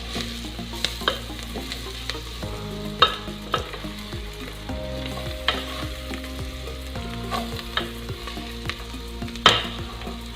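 Egg bhurji mixture stirred in a frying pan, a steady sizzle with repeated scraping and tapping strokes of the spoon throughout.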